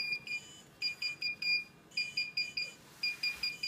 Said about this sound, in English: This one's beeping also.